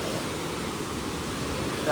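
Floodwater rushes through the Akeru Vagu stream in a cyclone-swollen torrent, a continuous broad roar heard up close for a brief moment.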